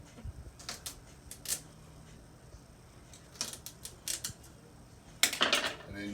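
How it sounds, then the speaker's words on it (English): A knife cuts celery stalks in half on a board, making a few sharp, crisp crunching snaps in small clusters, close and fairly quiet, with pauses between cuts. "cut your celery in half."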